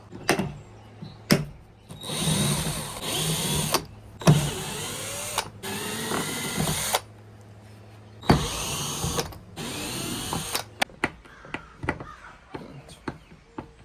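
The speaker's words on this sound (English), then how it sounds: "I gotta take these screws out from the bungee cord, and then under this handle here, I gotta pop this off." A power drill backs screws out of the handle on an Old Town Topwater 106 kayak, whirring in repeated loud bursts with short pauses, then a few close clicks and knocks.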